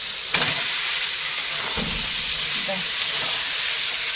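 Potatoes fry for chicken curry, giving a loud, steady, broadband sizzling hiss throughout, close by, with a few faint clunks and a voice speaking underneath.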